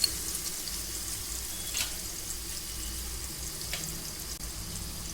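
Green chili, mint and coriander paste with ginger-garlic paste frying in a pan gives a soft, low, steady sizzle with a couple of faint scrapes, heard alone without speech.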